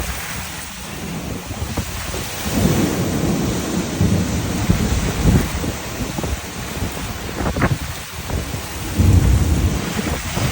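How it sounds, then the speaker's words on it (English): A fierce thunderstorm pours heavy rain while rolling thunder rumbles through and wind buffets the microphone, loud and constant, with no voices. "It wasn't brief. It was one heck of a storm."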